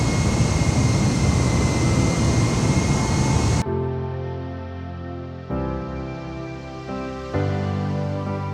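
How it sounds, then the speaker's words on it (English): Airliner, aircraft 9525, taking off and climbing; a loud, broad engine roar fills the first seconds, then drops abruptly to a quieter tonal whine with steady humming layers and small shifts in pitch. "Just after 10 am, aircraft 9525 gets airborne."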